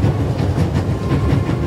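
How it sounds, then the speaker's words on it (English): An old-fashioned steam train with a coal car rolls along in a video game, a dense continuous rumble with rhythmic clickety-clack from the wheels, close and steady with no talk. "The coal car and an old-fashioned steam engine are in front of it."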